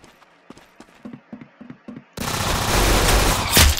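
Gunfire in the Roblox game Arsenal: a rhythmic string of short single shots, then a sudden loud continuous burst of rapid fire that fills the rest, close and dense, with no talk.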